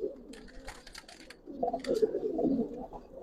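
Pigeons coo in low, throaty bursts, a soft murmur that swells and grows fuller in the second half, heard close with no talking.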